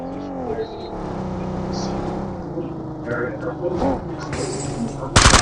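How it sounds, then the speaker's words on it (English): A car rumbles and pulls up nearby, its engine humming under steady talk, with thumps and a sudden loud burst at the end. "car just pulled up"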